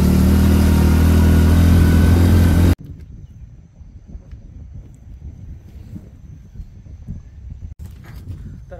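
A motorcycle labours up a steep slope on the road to Hanuman Gad Fukeri fort in the Konkan. A loud, droning engine note holds for a few seconds, then cuts to a much quieter, uneven rumble with scattered knocks.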